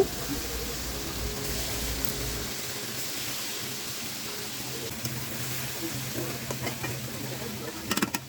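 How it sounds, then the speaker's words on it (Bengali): Pre-fried koi fish goes into a pan of softened, frying tomato, bringing a constant close sizzle with soft stirring and scraping, and a few louder clatters near the end. "এখানে টমেটোটা কিন্তু নরম হয়ে গেছে তারপরে ভেজে রাখা মাছ দিয়ে দিচ্ছি"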